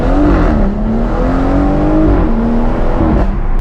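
A BMW M140i with a new aftermarket exhaust revs hard and loud from inside the car, the engine note climbing and dipping in a continuous roar with no talking.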